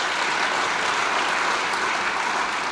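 Audience applause at the Modesto Chamber of Commerce 2014 Awards Gala, greeting a retiring board member: a steady, dense wash of clapping from many hands that holds evenly loud throughout, with no voices on top.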